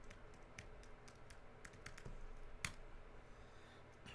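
Computer keyboard typing of a mkdir command, a quick run of light, close key clicks in uneven bursts, faint and alone.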